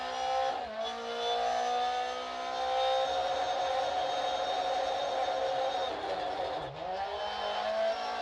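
In a racing video game at Trois Rivières, a race car's engine revs and shifts pitch continuously, dipping briefly as the car nearly spins out, with a faint tire squeal.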